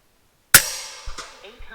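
A single sharp shot from an FX Impact M4 air rifle cracks out inside a 100 m tunnel, followed by a lingering echoing tail and a couple of faint later knocks.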